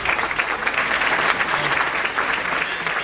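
An audience applauds for a man's wife at an Illinois Democratic gubernatorial forum in Matteson, with steady, dense clapping from a crowd filling the room for about three seconds.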